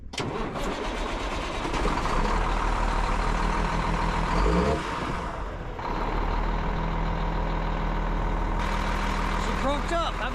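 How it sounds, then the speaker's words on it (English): An old truck cranks over and catches, its engine settling into a steady, rumbling idle close by, with a brief rise in revs partway through. "Go see if my old truck will crank up"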